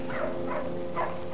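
Several dogs barking in rapid repeated bursts with a steady rhythm, moderately loud and slightly distant, in a scene from the film Ship of Monsters.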